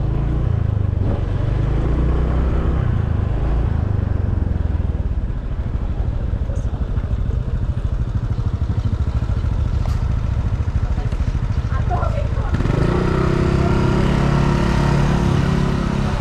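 A motorcycle engine at Tanah Lot, Bali, in the rain gives a steady, loud rumble throughout, close by, with a low drone that shifts and thickens near the end, plus some faint clatter.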